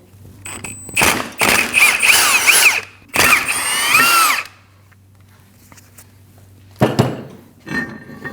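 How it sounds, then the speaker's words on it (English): A power tool backs out two 10mm Allen bolts from a front brake caliper bracket on a 2012-2021 Nissan NV2500, giving loud whining, rattling bursts close by, with a pause and shorter later bursts. "Now you need to remove your 2 bolts. They are a 10mm Allen."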